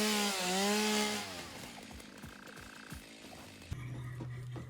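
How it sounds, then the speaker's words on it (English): A chainsaw cutting wood in the video game Satisfactory, a loud whining engine tone at first that gives way to rough rasping bursts of cutting, followed by a steadier drone. "Chainsaw time."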